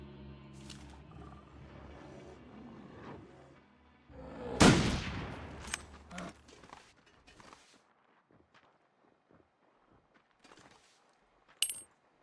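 A single loud rifle shot in The Long Dark, a sharp burst aimed at an animal's head, followed by a brief rustle and a few faint thuds and clicks, then near quiet with one small late crack.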